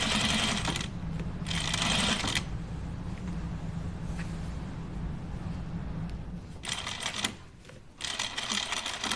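A sewing machine stitches the cuff of a men's button-up shirt in short bursts of rapid clatter, with quieter pauses between runs and a final pair of quick bursts near the end.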